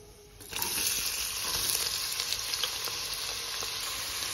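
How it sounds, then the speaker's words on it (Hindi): Onions dropped into hot oil with whole spices set off a sudden, steady, close sizzle that keeps crackling and hissing without letup, with faint stirring beneath it. "गरम तेल में पहले हम खड़े मसाले ऐड करेंगे, अभी प्याज ऐड करेंगे गरम तेल में।"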